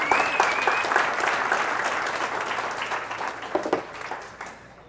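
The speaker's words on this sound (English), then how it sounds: "Let's all give them a round of applause." Warm applause from a seated audience at an entrepreneurship talk, a dense wash of clapping that holds steady and then tapers off with a few last claps.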